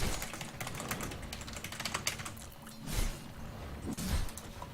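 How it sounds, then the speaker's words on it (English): Rapid, uneven clatter of keys on a computer keyboard as someone types a message, steady and fairly close, with a few louder bursts of strokes and no talking. "I was just typing a message there"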